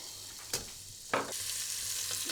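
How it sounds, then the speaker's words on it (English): Onions, garlic and methi seeds fry gently in hot oil with a soft, continuous sizzle, interrupted by two brief stirring scrapes. "I've added them together with the onions and they will get gently fried now"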